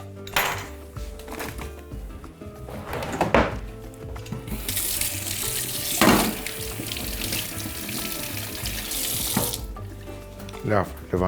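Running tap water pours into a sink while a large peeled sweet potato is washed, a steady broadband rush with brief louder splashes and clatters, close by with no talk.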